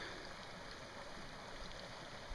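A creek flows steadily at a crossing on the Cottonwood Lake Trail in the mountains, a broad, even rush of running water at moderate distance with no voices over it.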